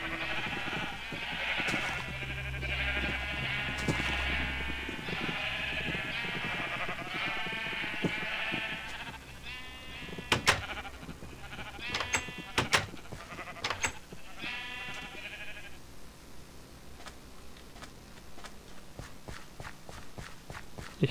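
Repeated sheep bleats from the Minecraft video game, clear and close, coming in a series over in-game footsteps and scattered clicks and thumps.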